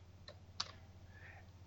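Commands being typed on a computer keyboard: a few faint, sparse key clicks over a low steady hum in a quiet room.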